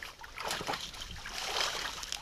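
A WATERSHED Torpedo Gun dry case lowered into near-freezing water, giving soft, close splashing and trickling sounds that are fairly faint and brief, with no talk.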